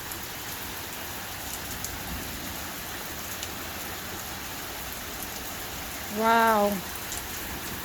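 Steady pouring rain hisses through the whole stretch during a thunderstorm, with no thunder clap standing out; near the end a single voice calls out briefly over the downpour.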